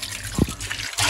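Tomatoes being washed in hot water, with splashing and trickling water plus a brief gurgling drip near the middle and a rush of running water at the end.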